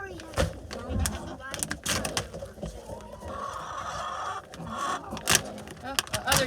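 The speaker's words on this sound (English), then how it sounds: "Oh, the other chickens are coming." Homestead chickens cluck in a garden, with soft, irregular calls near the ground. People talk over them throughout.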